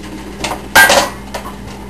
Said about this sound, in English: I'm gonna chop up some lemon.